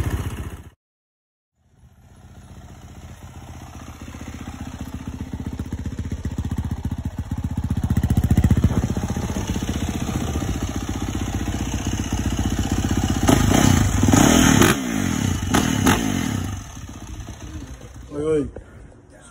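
Motorcycle engine idling steadily up close, a continuous rumbling drone that gradually swells louder before a few clattering bumps near the end, while people talk over it.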